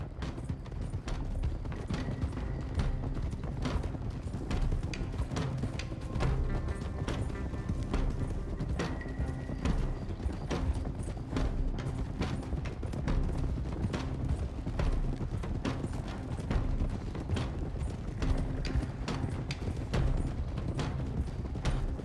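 Horses ridden by a gang in the video game Red Dead Redemption 2, a continuous dense clatter of many hooves at a steady gallop, loud and close, with occasional whinnies and rumbling underneath.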